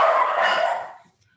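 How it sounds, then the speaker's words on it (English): A few dog barks burst out together, loud and close, then trail off into quiet within about a second. "And there go my dogs."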